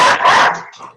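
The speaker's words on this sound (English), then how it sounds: "Those are my dogs." Dogs bark loudly and close by in a short, sharp burst, ending with a quieter trailing yelp.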